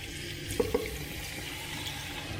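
Ackee and salt fish fry in hot oil as a steady, fairly quiet sizzle, with two small sharp pops near the start.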